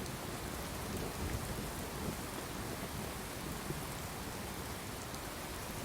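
Steady heavy rain with rumbling thunder in the video game Fallout 4, a dense continuous wash of downpour at even loudness throughout, with no voices.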